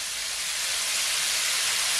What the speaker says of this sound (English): my chicken been frying for at least over 5 minutes